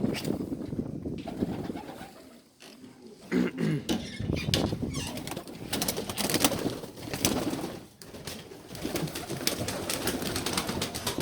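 Pigeons just released in a coop coo and flutter nearby, with soft calls and wingbeats over a steady rustling background, without speech.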